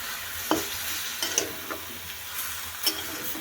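Water poured into a pan where cauliflower and broccoli fry with cashews, green chillies, melon seeds and peanuts brings a soft, steady sizzle broken by a few sharp crackles and the clink of stirring.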